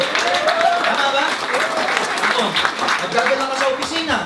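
Audience applause at a 2015 training seminar, a dense, steady wash of clapping running throughout, with a voice speaking over it.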